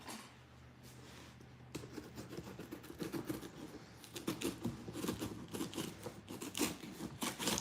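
A cardboard shipping box holding Korean VHS tapes is sliced open up close, starting with quiet scraping and then turning into a busy run of crisp cuts, taps and crackles that grows louder toward the end.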